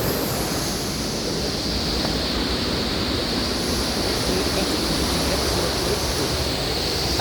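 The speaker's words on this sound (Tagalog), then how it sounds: "This is where the falls begin." A very tall waterfall thunders at the top of the falls, a broad continuous rushing roar of falling water, steady and loud throughout with no voices.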